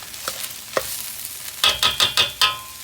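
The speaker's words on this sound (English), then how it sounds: "And now I'm going to put the egg in." Egg cooking in a pan for Chinese fried rice: soft clatters at first, then a run of five sharp, evenly spaced scraping stirs, each with a bright sizzle, close and loud with no talk.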